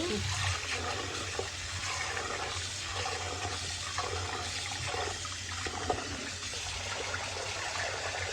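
Steady running water pours over rice being washed in a kitchen, a constant close rush with faint swishing, no voices heard.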